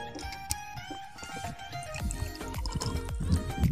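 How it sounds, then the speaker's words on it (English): Fuel drains from the wing drain point of a Diamond DA40 NG into a sampler cup, giving a close trickling and dripping with small clinks and handling noises. "We'll fill 1/3 of the fuel drain and have a look and make sure there is no water or debris left in there."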